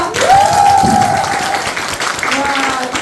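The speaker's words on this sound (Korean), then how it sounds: "큰 박수 다시 한번 부탁드릴게요." An audience at a business talk event gives a loud round of applause, a steady wash of clapping running the whole time, with a voice speaking over it near the start.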